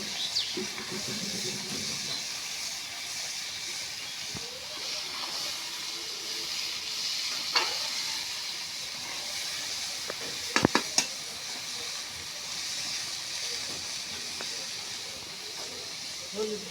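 Bitter gourd goes into a pan of oil with onion and chilli already fried red, giving a soft, continuous sizzle with a few sharp scraping clinks from stirring, fairly quiet throughout.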